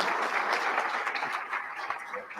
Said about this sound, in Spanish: Fuertes los aplausos entonces para